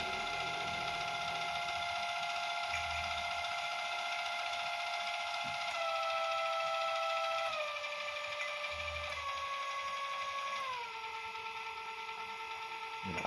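A gearbox motor on a dough mixer runs at its slowest speed, giving a steady mechanical whine that steps down in pitch several times, with a few soft knocks underneath.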